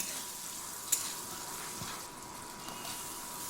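Potato and pumpkin frying in oil for a pumpkin-greens ghonto, a soft, fairly quiet hiss of sizzling with one brief clink near the start.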